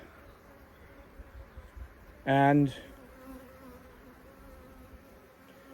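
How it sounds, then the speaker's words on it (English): Constant low honeybee buzzing at a hive in the background, with a brief louder buzz as one bee flies close past, and a single spoken word. "see, the bees are on the front of the box now."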